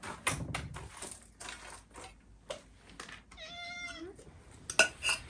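A cat gives one short, clear meow partway through, set among scattered close rustling and clinks of dishes or cutlery in a domestic setting.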